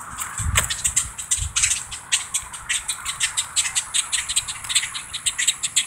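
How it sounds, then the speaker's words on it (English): Agitated grackles call outdoors in a rapid, repeated series of sharp, harsh chirps and squawks, close and insistent, with a few louder bursts near the start. "has anyone ever had this happen to them, or the birds just start going nuts?"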